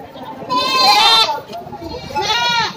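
Two loud, wavering goat bleats sound up close, one after another with a short pause between, over faint background chatter.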